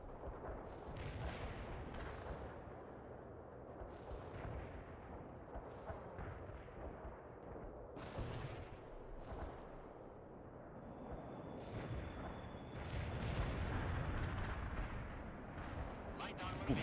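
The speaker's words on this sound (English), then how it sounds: "Ooh, more explosions." Repeated booming explosions and blasts, some close and some distant, scattered irregularly over a rumbling background.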